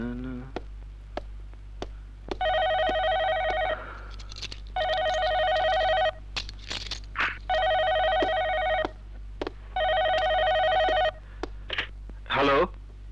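A telephone rings late at night in four evenly spaced electronic bursts, each about a second long with short gaps, close and clear over a low steady hum, with a few faint knocks and sounds in between.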